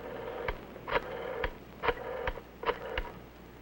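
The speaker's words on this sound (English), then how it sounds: "Flip the switch button, then dial a code number and the number you want" Dialing a code number on a 1962 Century 21 push-button telephone: a handful of separate short tones, evenly spaced about half a second apart, clear and fairly quiet with no talk.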